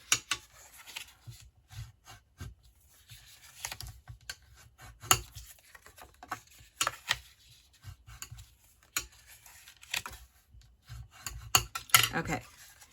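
Paper scored for a Christmas gift box is folded and burnished along its score lines, giving a series of close, short rubbing and creasing scrapes in irregular bursts with quiet gaps between.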